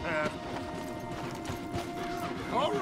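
Hooves clop unevenly at a walking pace in the video game Red Dead Redemption 2, under a steady background hum, with brief talk near the end.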